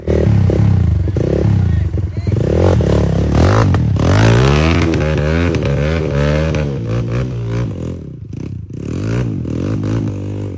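A two-stroke trail motorcycle climbing over rocks revs hard and loud up close, its engine note rising and falling with scraping and clattering underneath, while people talk and shout over it.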